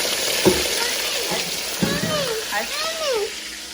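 Shrimp and spaghetti fry in a hot pan for Haitian spaghetti, giving a steady sizzle with scraping stir sounds and a few clunks, close by, with some soft voices in the background.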